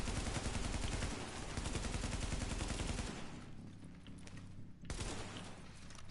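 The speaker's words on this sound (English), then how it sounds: "I do like the incendiary bullets" Rapid automatic gunfire with incendiary bullets in a video game, a dense, loud stream of shots for about three seconds, then a quieter lull of scattered rumble before another burst of firing starts up.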